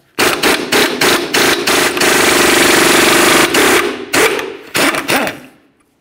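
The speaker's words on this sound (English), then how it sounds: "Use a 19 millimeter to remove your mounting nut." Impact wrench rattling off a tie rod mounting nut with a 19 mm socket on a 2012-2018 Nissan Altima, firing in several loud bursts, one long sustained run, then short stuttering pulses up close.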